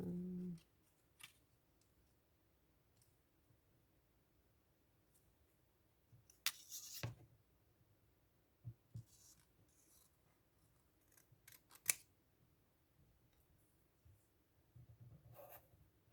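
Scissors snip a letter out of a magazine page, a few faint, sparse cuts and paper rustles spread over a long quiet stretch, close by with no talking.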